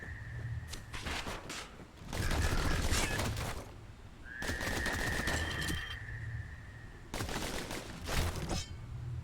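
Dueling pistols fire in the video game Bastion, coming as bursts of rapid shots in several clusters with whistling and shattering game effects between them, loud and close with no speech.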